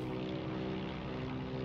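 Curtiss O-52 Owl propeller plane in Heroes & Generals, a loud, steady engine drone with throbbing propeller hum, continuous and close.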